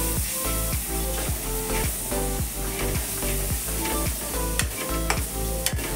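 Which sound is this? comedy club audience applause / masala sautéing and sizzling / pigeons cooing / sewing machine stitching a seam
masala sautéing and sizzling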